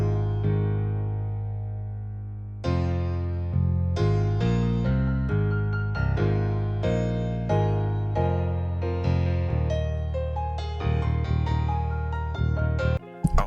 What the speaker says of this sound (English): I had to put some chords on top of it with this piano.